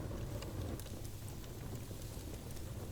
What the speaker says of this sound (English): the sound of the piano burning, and that was a couple of piano strings snapping in the heat